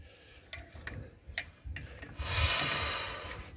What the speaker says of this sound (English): just give them a little tweak with a wrench